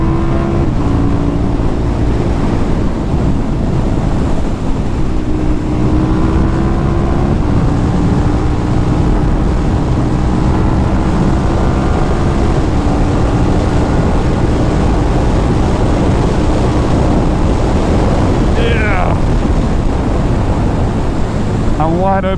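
A KTM 1290 Super Duke R motorcycle pulls hard in fourth gear, its engine drone rising steadily under loud wind roar, with a rider's voice heard briefly.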